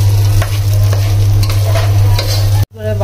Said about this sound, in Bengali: এখন পোলাও চালগুলো ভাজা হয়ে গেছে